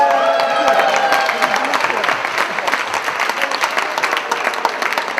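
A conference audience at Women's Conference Europe gives loud, sustained applause that starts dense and gradually thins to scattered claps, with a voice briefly over the start.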